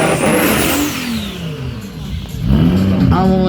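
A tuned drag race car at a Slovakia Ring power festival revs hard, its engine note climbing, dropping and surging again as it pulls through the gears, loud and continuous with a second engine note rising near the end.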